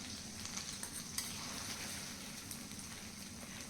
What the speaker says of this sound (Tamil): மட்டன் பீசஸ் எல்லாம் நல்லா கொஞ்சம் சுருண்டு வர ஸ்டேஜில் நம்ம வந்துட்டு